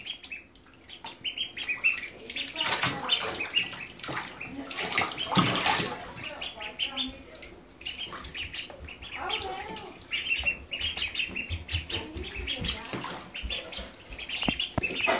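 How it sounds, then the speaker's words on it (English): White pet ducks splash, paddle and dunk underwater in a small pool, producing bursts of close splashing and flapping amid soft quacks and chirps, with occasional voices nearby. "Tell Rhonda the white duckies are going underwater."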